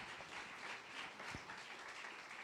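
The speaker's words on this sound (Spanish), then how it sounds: "Dale ese fuerte aplauso a Rey de Reyes" A church congregation applauding during a Spanish-language worship service, a faint, steady wash of many hands clapping that carries on without a break and sounds distant.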